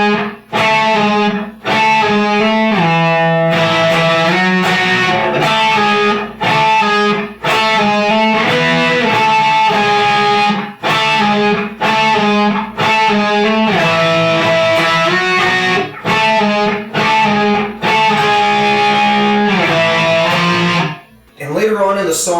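Heavily distorted electric guitar plays the chorus part of a song at a slow tempo, dense sustained chords with brief gaps between phrases, loud and continuous.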